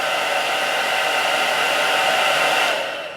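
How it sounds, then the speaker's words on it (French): A handheld hair dryer blows close and loud, a steady broadband whoosh with a whining motor tone, easing off near the end. "Si j'allume mon sèche-cheveux voilà"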